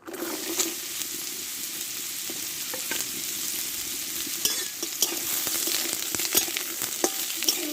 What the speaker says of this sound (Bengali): সাদা তেল দিয়ে দেব দিয়ে লাল কুমড়োটা দিয়ে দেবো